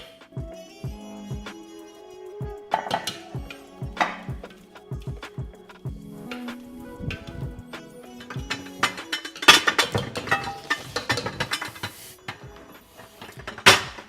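Large dishes are handled in a home kitchen while cooking quail with preserved limes and mustard, making a busy run of clinks, knocks and clatter that grows denser and louder toward the end.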